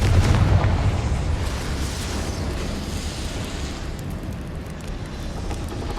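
A Confringo blasting spell goes off in the Hogwarts Legacy video game, a loud booming burst that settles into a rumbling, crackling roar and fades gradually over several seconds.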